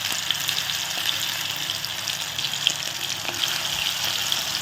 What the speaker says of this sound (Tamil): இப்போ இந்த எறா வந்து நம்ம எண்ணெயில் போட்டுக்கலாம்